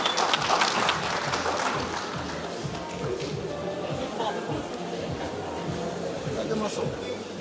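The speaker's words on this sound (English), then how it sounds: "A round of applause." Crowd applause for the Livestock Farmers Association at a Harvest Day event with a commercial apple farm, a steady dense clapping wash throughout, with murmuring voices underneath.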